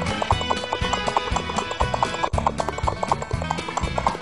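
Hooves of a galloping horse clip-clop in a fast, even rhythm, close and distinct, over a steady backing of music.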